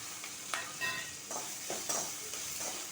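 Urad dal, dry red chillies and curry leaves sizzle in hot oil for a tempering for okra and sesame curry, a soft steady crackle with a few sharper pops and a spoon stirring, no talking.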